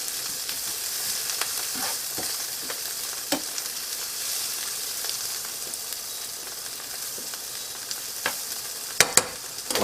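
Onion frying in a pan gives a steady, even sizzle throughout, with a few soft clicks and stirring taps near the end and no talking.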